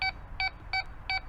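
Quest X5 metal detector target tone heard while swinging from the other direction: four evenly spaced, clean beeps, clear and steady with no voices.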